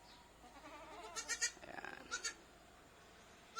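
Goats on a farm bleat in a few wavering, nasal calls clustered together, moderately distant and fairly soft, with a brief spoken word near the end.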